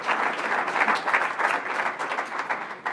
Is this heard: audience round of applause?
yes